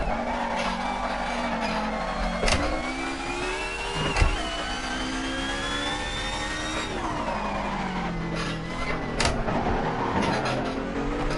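A touring car engine in a racing video game revs and accelerates continuously, rising and falling through gear changes with brief skid-like squeals, loud and close, with no voices.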